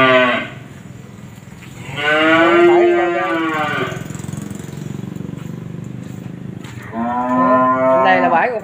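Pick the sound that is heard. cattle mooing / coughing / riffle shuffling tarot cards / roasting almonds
cattle mooing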